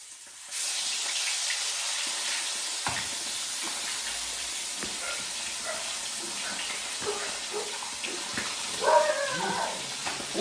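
Food fries in a pan with a steady hissing sizzle that starts abruptly and holds level for several seconds, dotted with small pops and faint bubbling.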